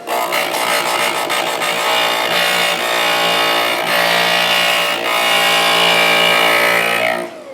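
A glass grinder sands the edge of a stained glass piece, a loud continuous grinding hum with slight scraping variations that runs steadily and stops near the end, alone without talk.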